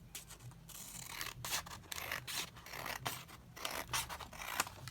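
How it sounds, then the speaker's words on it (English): Scissors snip through paper for a holiday journal page, a close, quiet series of crisp cuts and rustling scrapes in an uneven rhythm, with no talking. "I'll just cut this down here along the side"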